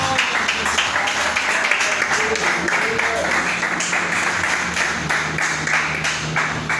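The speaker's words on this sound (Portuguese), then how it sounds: "Pode sentar e bater bastante palmas para Jesus." A church congregation applauds in worship, a dense, steady wash of many hands clapping throughout, with voices mixed in underneath.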